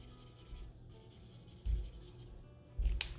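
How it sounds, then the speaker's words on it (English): A yellow pen colors in on paper with steady scratchy back-and-forth strokes, close and quiet, broken by a couple of soft thuds, with no talking. "We will use yellow to color this in."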